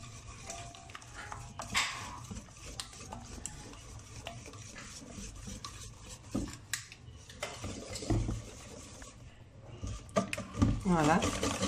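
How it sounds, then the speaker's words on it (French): Flan mixture with sweetened condensed milk being stirred in a bowl for a coconut flan, soft irregular scraping and clinks at moderate volume, with a quiet voice speaking in the background. "On mélange bien jusqu'à temps que tout soit bien, mélangé ensemble"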